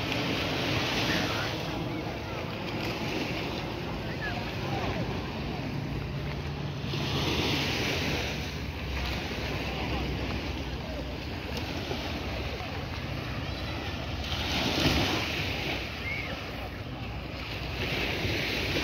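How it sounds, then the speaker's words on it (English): Waves wash steadily onto Browns Beach in Carlisle Bay, Barbados, a continuous surf roar rising and falling in slow swells, mixed with wind buffeting the microphone. "So this is all Browns Beach"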